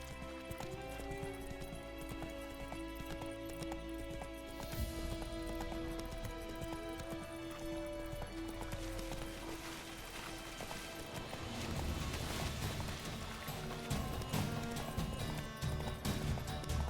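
A horse gallops in The Witcher 3: Wild Hunt, its hooves drumming in a fast, continuous rhythm with a brief whinny, set against a steady bed of game music and ambience.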